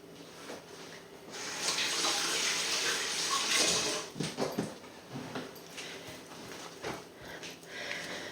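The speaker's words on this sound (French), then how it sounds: "Je me lave les mains, je reviens." Water runs from a kitchen tap while hands are washed: a loud splashing, hissing stream for a few seconds, then softer intermittent splashes and rubbing as the flow tapers, with no talk.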